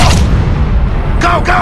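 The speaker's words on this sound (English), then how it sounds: "Enemy artillery!" Artillery shell blast in a Counter Terrorist FPS shooter game on Android: a deep rumbling boom fills the low end, followed by a short bright crack, with game voice callouts layered on top.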